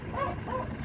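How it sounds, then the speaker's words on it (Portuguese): A big dog gives a couple of short yips and whimpering barks close by, somewhere in rural Nova Santa Rosa, with a steady low background hum. "O escritor ficou com medo desse cachorrão aí"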